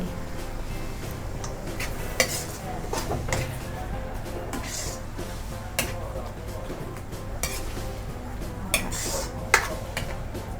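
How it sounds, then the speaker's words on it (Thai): Cooked Thai nam prik ong chili dip is scooped from a pot onto a serving plate in a home kitchen, with repeated metal utensil scrapes and clinks against cookware over a steady background hum, plus faint speech. "พอมันสุกแล้วก็ตักใส่จานเลยค่ะ ตักใส่จานเสิร์ฟเลย"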